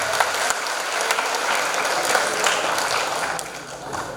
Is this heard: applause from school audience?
yes